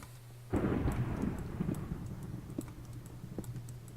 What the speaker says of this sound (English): It's thunderstorm now.